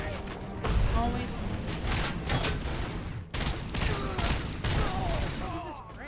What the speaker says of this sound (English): They're shooting you in the chest